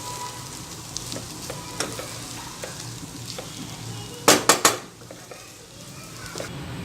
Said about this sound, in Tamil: நம்ம போட்ட மசாலா, லெமன், புளிஞ்சு விட்ட லெமனு எல்லாம் வந்து ஒன்று சேர்கிற மாதிரி நல்லா கிளறி விடுங்க.